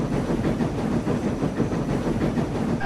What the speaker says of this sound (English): the driver pulled the lever and Edward puffed away.